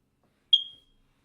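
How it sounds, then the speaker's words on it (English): A smoke detector lets out a single short, high-pitched chirp that decays quickly, with silence before and after. "if you do get annoyed by this smoke detector, I'm sorry"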